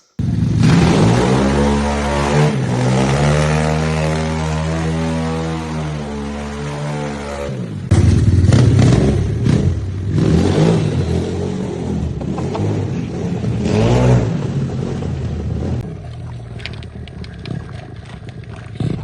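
A cheap motorized drift trike doing practice slides and donuts, its small engine loud and close, revving up and down in rising and falling pitch sweeps for the whole stretch, with rough rumbling as it slides.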